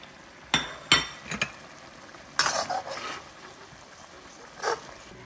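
Carrot, green chillies and onion are tossed in a hot pan for Schezwan chicken: several brief bursts of sizzling and spatula clatter at irregular intervals over a quiet background.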